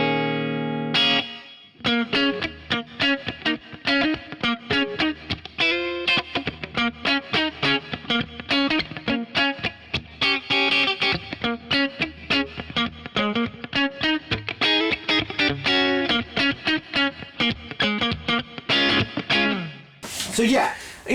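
An electric guitar plays through a 20-watt Friedman Runt 20 amp on a clean setting, a continuous run of picked notes and chords up close, ending in a sudden sharp burst of noise.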